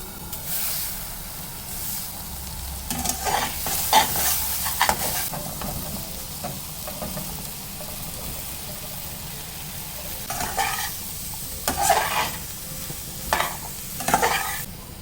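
Eggplant, taro stems and tomatoes stir-fry in fish oil, a constant sizzle punctuated by bursts of spatula scraping and tossing against the pan at irregular intervals.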